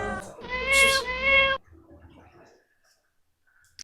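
A cat that ate a fish lets out one long, clear, drawn-out meow close by, followed by quiet rustling.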